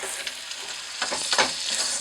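Home fries sizzle steadily in a hot pan while being stirred, with scraping and tossing sounds rising over the constant close frying hiss.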